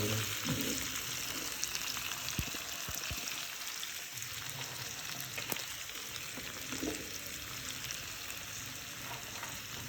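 Tomatoes, onion and chilli cooking over a low flame, a soft constant sizzle with occasional faint pops and small knocks, low and close.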